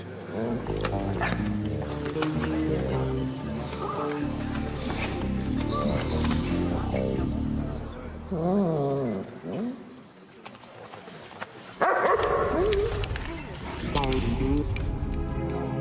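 A dog barks and whimpers in short bursts through a busy stretch of music and voices, close but partly masked by the mix.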